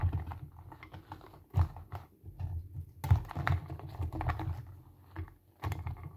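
Tarot cards being shuffled by hand: soft, irregular clicking and flicking of cards, close and quiet, with a few sharper taps along the way and no talking.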